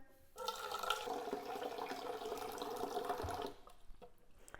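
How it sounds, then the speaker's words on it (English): Tap water runs into a bowl for an ice bath for deviled eggs, a steady splashing pour for about three seconds before cutting off, fairly quiet and close. "I'm going to put a little more water in here."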